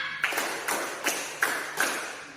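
A classroom of students claps together five times in a steady unison rhythm, each sharp collective clap spaced evenly about a third of a second apart, close and moderately loud with no talking.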